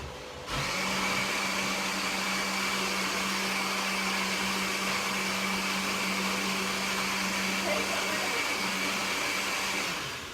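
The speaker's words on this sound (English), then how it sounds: "So Lee's going to get the lid on this, and we're going to go ahead and blend, blend, blend" Blender whirring as it mixes crepe batter with vanilla: the motor kicks in abruptly and holds a loud, steady drone for about ten seconds before cutting off.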